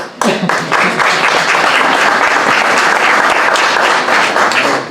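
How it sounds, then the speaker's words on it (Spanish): A conference audience at the historical archive in Tucumán breaks into dense, sustained applause that starts abruptly and stays loud and steady for the whole stretch, with no one speaking over it. "Aplausos para vos."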